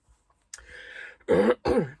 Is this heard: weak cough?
yes